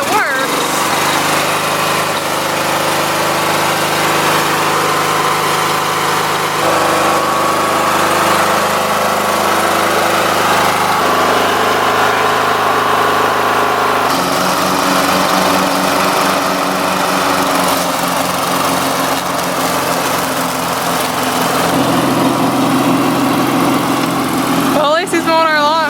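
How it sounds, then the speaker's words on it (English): A riding lawn mower engine runs continuously while mowing a lawn, a steady droning whine that shifts in pitch as it works, with people talking over it. "It's mowing our lawn."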